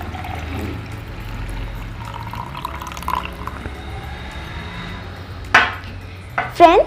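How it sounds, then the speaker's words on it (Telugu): Water is poured into a lemon punch with chilli, mint leaves and lemon juice, a faint liquid trickle followed near the end by a few sharp spoon-against-glass clinks as it is mixed. "లెమన్ వేసేసుకున్న తర్వాత కొన్ని వాటర్ వేసుకోవాలి."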